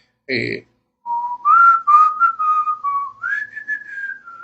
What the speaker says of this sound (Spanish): la canción termina con un pequeño silbido por parte del autor